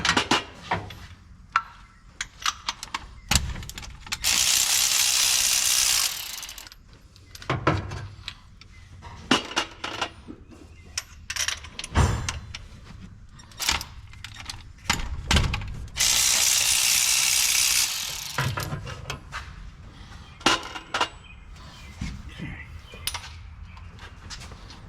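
A ratchet wrench works on a truck, giving intermittent runs of sharp mechanical clicks, with two longer bursts of hissing noise and occasional faint voices in the background.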